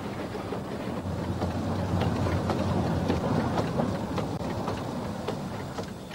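An 1889 0-4-0 narrow gauge steam tank engine gives a dense, continuous rumble and hiss, loud and steady throughout with no talk.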